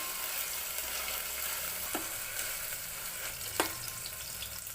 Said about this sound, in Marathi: तेल तापल्यानंतर त्यात कांदा व टमॅटो घालून घ्यायचा त्याला हलकेच परतून घ्यायचं